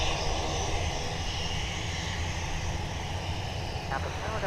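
A Delta airliner rolls for takeoff on runway 17 at Minneapolis–St. Paul airport, a steady broadband engine roar heard from a distance, with radio voices faintly in the background.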